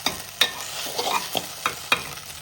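Vegetables are stir-fried mezhukkupuratti style, with a close sizzle punctuated by regular scraping strokes of a spoon against the pan, several in quick succession, and no speech.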